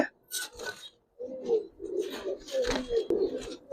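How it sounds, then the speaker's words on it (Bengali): Rooftop Giribaz and coloured pigeons give repeated low coos, several overlapping calls close by with brief rustling between them and a short quiet gap early on. "আসলে ভাই কবুতর গুলা দেখেন"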